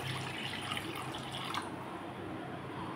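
Water pours steadily into a cooking pot for cauliflower being parboiled, a continuous close splashing that stays alone, with no talk over it.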